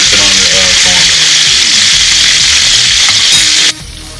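Sauce bubbling and sizzling loudly in a pan on the stove, a dense close hiss with some faint voice-like tones underneath, cutting off abruptly near the end.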